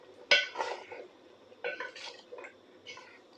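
A pot of aloo gosht balti curry is stirred, giving three clusters of metal utensil scraping and clanking against the pot with wet squelching in between, fairly close and without talk.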